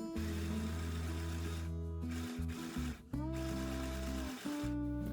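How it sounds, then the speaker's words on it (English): A mini sewing machine runs a straight stitch through fabric with a steady, loud motor hum and rapid needle chatter, pausing briefly twice before resuming, with no talking over it. "And now we're going to sew a straight stitch."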